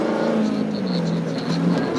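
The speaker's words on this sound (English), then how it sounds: "It's a beautifully running engine." Race car engine running steadily at the Goodwood Festival of Speed, a continuous loud drone with shifting pitch throughout, mixed with crowd or announcer noise in the background.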